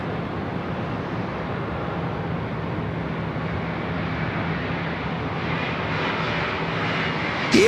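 An airliner passes low overhead on approach near Sydney Airport, a loud, continuous jet roar that holds steady and swells slightly toward the end, with no voices.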